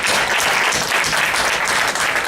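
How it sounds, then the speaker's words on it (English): A congregation at a Celestial Church of Christ youth anniversary revival gives a loud, sustained round of applause. Thick, even clapping fills the whole stretch with no break. "Let us give him a hand of applause."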